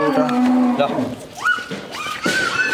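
An Indian dairy cow lows at a cattle market: one long, deep, close moo at the start, then shorter rising calls with crowd voices around it.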